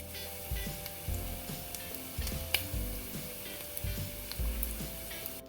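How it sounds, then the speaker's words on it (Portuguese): Pork rib juices sizzle and fry in a pan for a risotto, a soft, steady crackle broken by quiet, regular knocks or stirring taps, with no voices. "Vou deixar ele secar todo, ele vai fazer a fritura pra gente utilizar."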